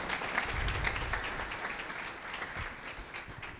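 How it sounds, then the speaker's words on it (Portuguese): Audience applause at a live event in Brazil, a moderately distant, continuous patter of many hands clapping with a low rumble underneath. "uma salva de palmas para o Igor."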